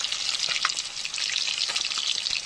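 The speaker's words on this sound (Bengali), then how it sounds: "ভাজা হচ্ছে" Tangra fish frying in hot oil, a steady close sizzle with a few sharper crackles and pops, no voices.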